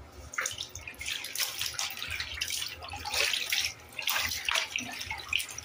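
Wet clothes being squeezed and flipped by hand in bathtub water, giving irregular sloshing, splashing and dripping bursts at close range, fairly quiet.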